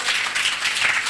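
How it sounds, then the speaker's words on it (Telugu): A church congregation claps together, a dense, even patter of many hands at a moderate distance, with no voices heard. "బిగ్గరగా చప్పట్లు కొట్టండి."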